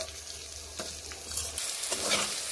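Cauliflower florets fry in hot oil in a pan, a steady sizzle with scraping stirs and brief clatters of the utensil against the pan, close and alone without speech.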